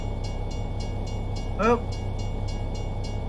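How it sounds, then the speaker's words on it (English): In the American Truck Simulator game, a tram passes with a short rising whine over a steady engine hum and regular clicking, while someone briefly speaks. "look at this. Look at this. It's a tram."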